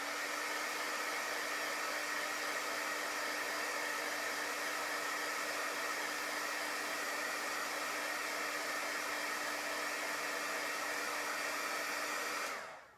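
A hair dryer blows continuously over a chalk paste transfer on a wooden bunny cut-out, a steady whirring hiss that cuts off abruptly at the end.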